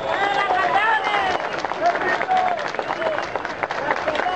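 Crowd applause at a Vuelta a Colombia cycling event in Mosquera, with dense sustained clapping and a bustling throng, some cheering mixed into the steady wash of hands.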